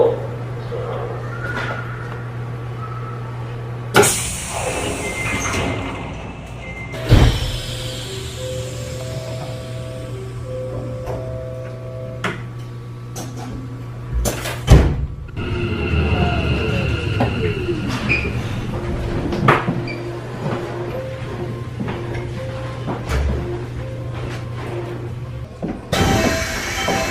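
A Keikyu New 1000 series train at a station sounds a door chime amid rumbling car noise, squealing wheels and door thumps, with a recorded announcement voice in Japanese under it.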